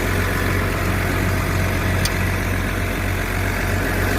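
A tractor fitted with a cold weather package idles nearby with a steady, low, droning rumble that never changes pitch, and no one speaks over it.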